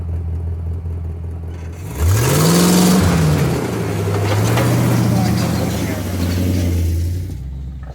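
A Jeep engine on a Black Hills trail revs up and down as the driver works the clutch, with a loud, sustained drone whose pitch swoops and wavers after a quiet start; voices talk over the engine.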